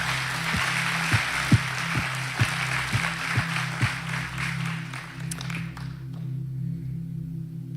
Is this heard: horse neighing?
no